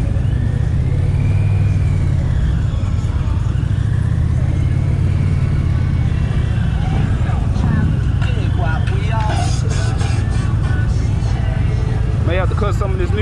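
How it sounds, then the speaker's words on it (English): Motorcycles rumble and rev at a busy outdoor motorcycle rally, a loud continuous engine drone with passing throttle swells, while people talk over the noise. "A lot of bikes out here."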